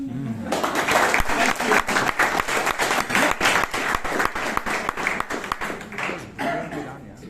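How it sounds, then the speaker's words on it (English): An audience at a Bangalore Toastmasters meeting applauds, with many individual claps standing out sharply over a dense wash of clapping that swells after a brief quiet start and then tapers off. "so please clap"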